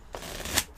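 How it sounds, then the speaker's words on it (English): A deck of playing cards is shuffled at a tabletop game, one quick riffle with a rising flutter that ends in a crisp snap, close and moderately loud. "I'm going to shuffle this up."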